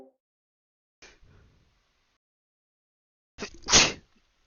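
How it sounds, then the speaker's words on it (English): A single sharp, loud sneeze, close up, with a smaller breathy onset a moment before it; a softer bursty noise comes earlier after a stretch of near silence. "Excuse me, I sneeze again."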